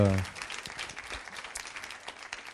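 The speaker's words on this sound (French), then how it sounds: "Je crois qu'on peut les applaudir" A conference audience at an accountancy firm's round-table gives moderate applause at a fairly low level, with scattered claps and a voice at the very start.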